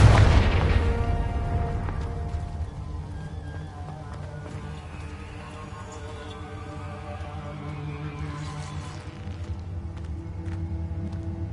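Fiery Confringo spell blast in Hogwarts Legacy, one heavy booming burst at the start that fades into a long rumbling tail under ambient game sounds.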